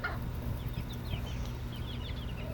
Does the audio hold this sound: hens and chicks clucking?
yes